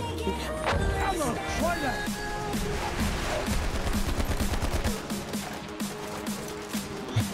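Rapid bursts of gunfire from a video game battle, sharp overlapping shots and automatic volleys rattling nearby at a loud, busy pace, with a player's voice talking over the shooting.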